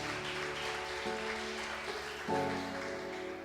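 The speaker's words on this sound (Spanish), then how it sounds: "Dale un fuerte aplauso a Dios." Quiet clapping from a church congregation during a Spanish-language sermon, soft and diffuse beneath sustained keyboard chords that shift pitch partway through.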